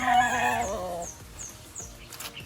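Sweater and Cardinal Kelso gamefowl roosters at a farm give a loud, close crow. A few softer, shorter calls follow in the background.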